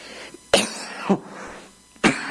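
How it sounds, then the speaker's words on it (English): Several sharp, muffled coughs into a sleeve sound close by, spaced apart, with quiet pauses between them. "That's the correct way to cough into your sleeve."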